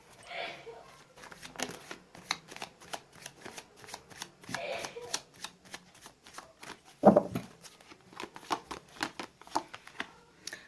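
Close, rapid papery shuffling of tarot cards carries on almost without a break, with faint soft rustles around the repeated riffles.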